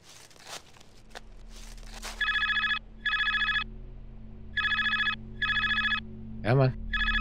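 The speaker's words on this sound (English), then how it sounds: "Come on, answer the phone." In the Barrow Hill horror adventure game, a telephone gives five evenly spaced electronic rings, each a buzzy trill lasting about half a second, with brief rustling noises before them and a short warbling tone at the end.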